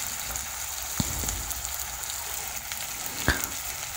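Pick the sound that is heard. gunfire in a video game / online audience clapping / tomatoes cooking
tomatoes cooking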